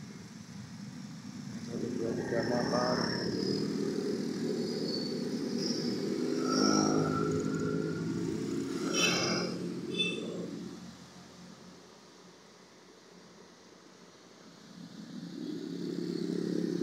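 Motorcycles, including Hondas, crowd the traffic at a junior high school entrance, engines humming and passing at moderate distance while people talk over the steady traffic noise.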